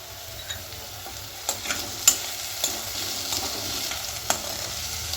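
Dal is stir-fried with sautéed onion in a pan for a ridge gourd dish, a soft continuous sizzle broken by occasional spatula scrapes and taps, close and quiet, no speech.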